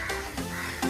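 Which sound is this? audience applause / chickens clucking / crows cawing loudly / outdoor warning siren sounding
crows cawing loudly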